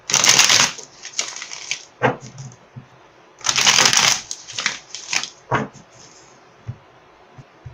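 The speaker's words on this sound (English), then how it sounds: "I am totally shuffling the wrong deck." Tarot cards being shuffled by hand in two bursts of dense riffling and crisp card slaps, with sparse taps and flicks between, close and fairly loud with no talking.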